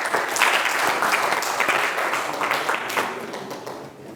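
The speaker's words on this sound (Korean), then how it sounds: "박수 한번 주시죠." An audience at a fire service academy lecture breaks into sustained applause, dense and fairly loud, fading slightly toward the end with no speech over it.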